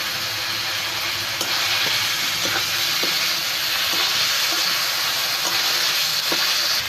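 Young jackfruit pieces frying in oil with spice masala, a loud continuous sizzle and hiss with regular spatula strokes and scrapes ticking through it.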